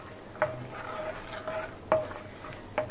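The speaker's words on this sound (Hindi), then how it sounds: "तो पहले इनको हम हल्का सा मीडियम लो हीट पे 1 मिनट तक फ्राई कर लेंगे" Pistachios being dry-fried in a pan over low-medium heat, with a soft continuous sizzle broken by three sharp scraping knocks of a spoon or spatula stirring against the pan.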